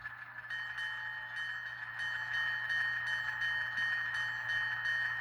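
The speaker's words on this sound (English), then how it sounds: "Here's the bell." A steady electronic ringing bell tone from an N scale Atlas Gold Series Alco S-4 model locomotive repeats continuously, fairly faint, over a low constant hum.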